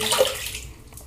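Water splashing as shaving lather is rinsed from a face by hand after a wet shave with a safety razor, a short burst of close, bright splashing that fades within about a second.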